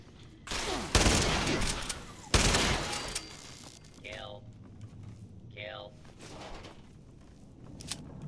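Gunfire in the video game Fallout 76: a loud burst of rapid shots in the first few seconds, then quieter game sounds with a few faint shots.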